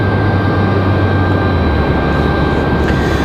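An airplane arriving at Raleigh Durham International Airport makes a loud, steady roar that stays level throughout, with no talk.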